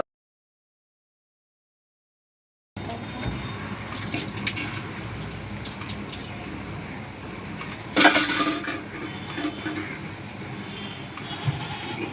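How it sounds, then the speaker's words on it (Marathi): A washing machine drains its water at home. After a moment of silence, a steady rushing gush of water starts, swells into a louder surge partway through, and keeps flowing. "झालं 1 मिनिटामध्ये पाणी काढते मशीन आता"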